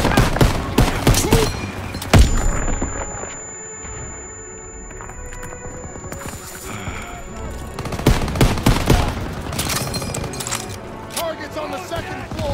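Machine gun bursts and scattered gunfire in a World War II shooter battle, loud and rapid near the start, then easing into a quieter stretch before sharp shots and bursts return, with shouting voices mixed in.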